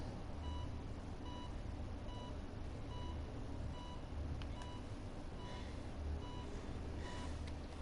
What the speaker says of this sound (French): On va couper ce bip bip incessant